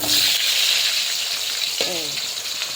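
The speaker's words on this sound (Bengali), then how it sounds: "পেঁয়াজটা এখন আমি লাল লাল করে ভেজে নেব" Onions sizzling and frying in hot oil in a home kitchen pan alongside whole garam masala and potatoes, a loud close steady hiss with a brief scrape of stirring midway.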